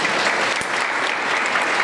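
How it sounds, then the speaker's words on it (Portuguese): Brief, dense applause from a congregation at a Catholic triduum gathering, steady clapping filling the space without a break. "Palmas de palmas."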